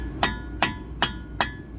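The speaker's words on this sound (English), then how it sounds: "Give it a couple taps with a hammer." A hammer taps the front wheel hub of a 2012 Jeep Liberty five times at a steady, quick rhythm, each strike a sharp metallic knock heard up close with no talking.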